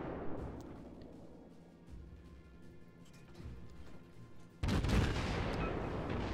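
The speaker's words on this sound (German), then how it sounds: "ihr seht, ein Schuss kommt an." Naval gunfire during a World of Warships battle: steady game ambience gives way to a sudden heavy boom of a shell landing, and the loud, rumbling roar carries on afterward, with no talking.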